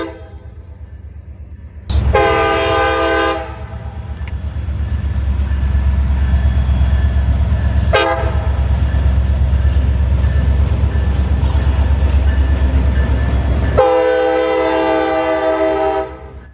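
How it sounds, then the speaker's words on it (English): A BNSF freight train with steel coil cars leaving Plant City, Florida, rumbles past close by with a continuous heavy roll, while its loud multi-tone horn blasts twice, once near the start and again near the end. "We caught this freight train as it left Plant City headed for Tampa."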